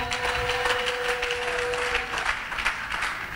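Church congregation clapping together in a dense, steady burst of applause that fills the whole moment, loud and close with no talk over it.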